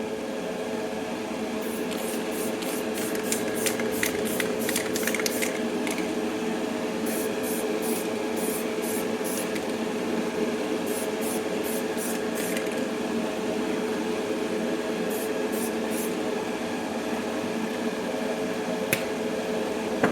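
Continuous hissing spray from an AK Interactive matte clear coat varnish aerosol can held close, steady and fairly loud, with bursts of faint clicking and rattling over it.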